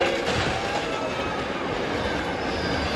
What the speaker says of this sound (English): A fast-moving train.